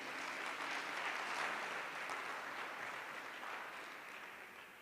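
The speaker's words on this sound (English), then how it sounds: "Another round of applause to Memule." A crowd applauds steadily from a distance at a youth unemployment workshop, the clapping soft and gradually fading away.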